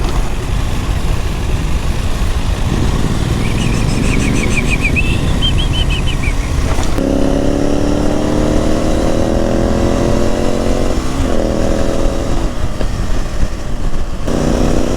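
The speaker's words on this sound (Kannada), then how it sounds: "ಸೌಂಡ್ ನೋಡಿ ಹೇಗಿದೆ ಆ ಗಾಡಿದು" A modified motorcycle revving loudly and close by, with a rough, buzzing engine note that climbs and drops through repeated throttle blips, then settles into a lower, throbbing idle.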